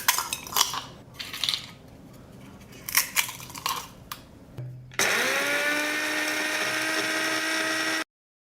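Electric grinder pulverising washed, dried eggshells: a few scattered clatters and taps of shells first, then the motor starts and runs as a steady, loud high whine for about three seconds before stopping abruptly.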